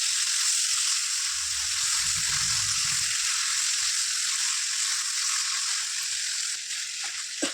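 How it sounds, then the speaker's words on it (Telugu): Ginger garlic paste frying in oil, a loud, close, steady hiss of sizzling that continues unbroken, with a soft low rumble of stirring partway through. "అల్లం వెల్లుల్లి పేస్ట్ పచ్చివాసన పోయేంత వరకు మంచిగా చక్కగా ఫ్రై చేసుకోవాలి"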